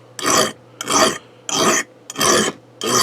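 A small hand file rasping along a knife blade in five slow, even strokes, each a loud close scrape separated by short pauses, with a faint steady hum underneath.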